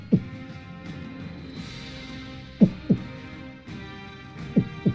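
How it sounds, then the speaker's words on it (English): A slow, muffled heartbeat thumps in low double pulses, a few spaced beats over a soft hum with no voices, used as an effect in a tabletop role-playing game session. "You hear another heartbeat."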